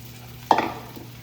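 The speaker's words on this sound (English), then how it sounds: "Onions going in. Just dump them." A load of onions is dumped into a hot pan, making one short burst of clatter and sizzle that quickly fades to a quiet background hiss.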